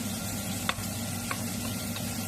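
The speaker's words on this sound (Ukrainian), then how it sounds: "Це наше сало, що починає жарюватися." Pork fat (salo) starting to fry on a stovetop for a Transcarpathian bograch, giving a steady soft sizzle with a few faint ticks and pops, fairly close and alone.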